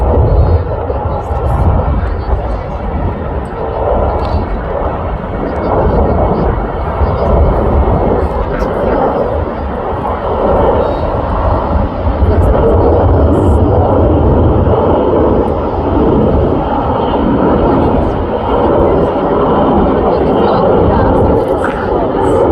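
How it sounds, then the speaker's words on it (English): A Lockheed C-130 Hercules flies at an airshow at Alliance Airport, its loud continuous propeller-engine roar filling the whole stretch steadily, with spectators talking underneath. "We're about to see the big airplane go down."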